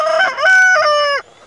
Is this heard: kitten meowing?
no